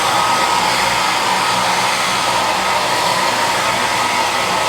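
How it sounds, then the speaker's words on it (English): A hotel room hair dryer blowing continuously at a loud, even level, a steady broadband whoosh with a faint whine, close up and alone. "I'm going to try out the hairdryer."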